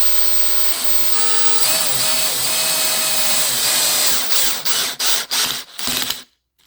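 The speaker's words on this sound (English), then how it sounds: "I have this drill on low, and it'll spin out before it over tightens" A power drill set on low whirs steadily while driving screws into a computer desk, then breaks into several short bursts with ratcheting clicks before stopping abruptly.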